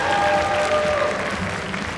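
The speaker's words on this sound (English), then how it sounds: "Give her a round of applause for the question." Steady audience applause at a Lolita fashion show, a dense wash of many clapping hands held throughout, with a faint voice underneath.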